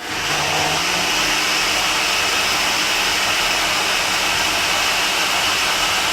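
A blender runs steadily to make a smoothie, its loud, constant motor whir and churning filling the whole stretch without a break.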